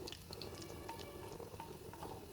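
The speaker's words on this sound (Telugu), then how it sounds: "ఇలా గోల్డెన్ బ్రౌన్ అయ్యే వరకు వేయించుకోవాలి వెల్లుల్లిపాయని" Garlic fries in hot oil until golden brown, a steady, dense sizzle with soft crackling pops throughout and no talking.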